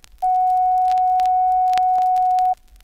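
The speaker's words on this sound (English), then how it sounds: "It's full of weird test tones like this." A steady pure test tone from an old CBS Audio-File sound effects record holds unbroken for a little over two seconds at a loud, even level, then cuts off abruptly, with faint record surface ticks around it.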